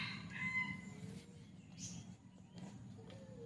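A rooster crows at a distance, faint and drawn out, with soft clucking and outdoor ambience around it.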